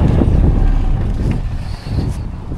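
Strong gusts of wind buffet the microphone in a steady rumbling roar on a beach on Grand Cayman Island, with no talking.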